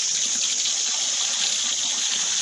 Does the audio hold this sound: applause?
no